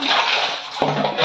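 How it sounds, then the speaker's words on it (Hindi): Water being drained out of a water tank during cleaning, a loud close rushing gush that shifts in tone partway through with a sudden splashing change. "देखिए टंकी से पानी कैसे निकाला जाता है।"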